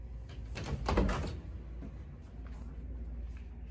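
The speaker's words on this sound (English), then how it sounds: "let's open my door." A home door is opened with a short creak and soft clunk of the latch, close and fairly quiet, followed by low room hiss with no talking.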